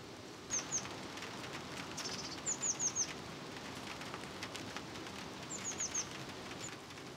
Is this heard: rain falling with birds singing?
yes